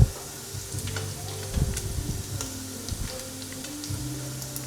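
Pork frying in a pan with garlic, onion and ginger for adobong sitaw, a steady close sizzle with brief stirring scrapes and clatters throughout.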